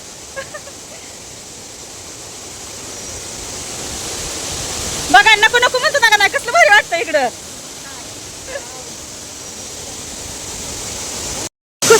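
Thoseghar waterfall gives a steady, broad rushing roar throughout, with people talking excitedly over it in the middle.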